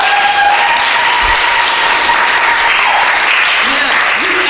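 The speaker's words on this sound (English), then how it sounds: "Please give them another round of applause." Audience applause for artists at a Gullah/Geechee artwork showcase in Conway, South Carolina: loud, continuous clapping from an indoor crowd, close and dense with a faint tone lingering beneath it.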